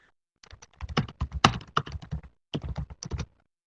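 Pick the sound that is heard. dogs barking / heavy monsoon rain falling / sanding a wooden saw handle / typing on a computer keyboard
typing on a computer keyboard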